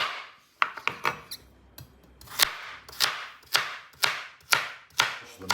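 Steady run of coarse knife chops through vegetables on a cutting board, about a dozen sharp close strikes in an irregular rhythm, loud and clear with no voices.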